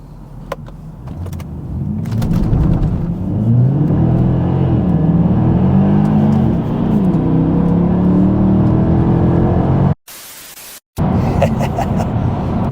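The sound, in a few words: Mercedes AMG car accelerating hard at a red light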